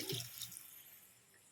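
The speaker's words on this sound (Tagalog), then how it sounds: "Lagyan natin ng tubig." Brief splash of water poured into a pan of sautéed eggplant, string beans and okra, fading quickly into faint dripping and a soft hiss.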